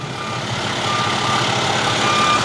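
A truck reverses with its backup alarm sounding a series of evenly spaced, high pitched beeps over a low engine rumble, close by and steady, with no talk.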